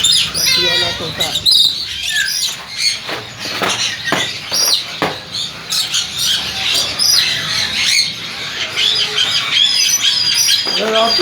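A parrot at a bird market in Saddar, Karachi, squawks loudly in repeated harsh bursts. Other bird chatter runs behind it, and people talk in between the calls.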